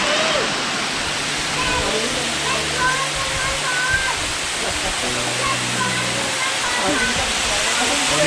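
Rushing water of Ashoka Waterfall in the monsoon, a steady loud broadband roar heard up close from down in the water, constant with no pauses.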